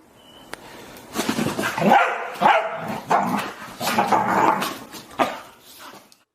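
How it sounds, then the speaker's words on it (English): Several dogs play-fighting at close range, trading rough growls and short barks in bursts with brief pauses, loud and busy throughout. "There's a lot of growling, but this is not aggression. This is all play."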